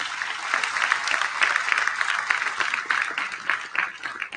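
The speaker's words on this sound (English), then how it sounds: "I'd like to ask that we give them a loud round of applause" Conference audience at the Kampala Serena Hotel giving a loud round of applause, dense close clapping from many people that swells and pulses throughout.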